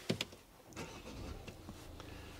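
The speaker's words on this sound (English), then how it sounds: "As you hear that rumble of diesel started outside" A Toyota Proace City diesel van is started with a short burst of starter cranking that catches into a low, steady idling rumble, heard fairly close with light mechanical clicks.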